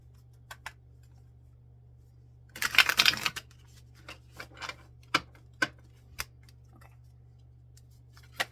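A tarot deck is shuffled in a quick riffle that lasts under a second, followed by scattered sharp card taps and clicks in a quiet room.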